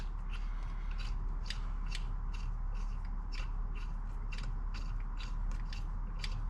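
A bolt being pulled out of a machine gives a quiet, repeated metallic ratcheting and creaking, with short scraping clicks coming in a steady rhythm over a low background hum.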